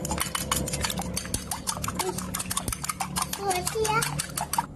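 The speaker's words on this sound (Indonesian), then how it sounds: "yang pertama telurnya kita kocok terlebih dahulu" Eggs being whisked in a bowl with a utensil, a fast steady series of sharp clicking taps against the bowl, with someone talking over it.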